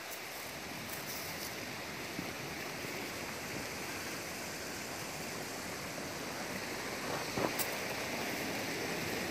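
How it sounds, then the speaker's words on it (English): Forest creek running beneath a trail bridge near South Fork, Colorado: a steady, fairly loud broadband rush of flowing water, continuous and close, with a few faint brief clicks and splashes near the end and no talking. "there's a bridge and a creek here"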